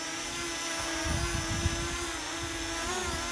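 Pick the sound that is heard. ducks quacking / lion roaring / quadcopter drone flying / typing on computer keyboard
quadcopter drone flying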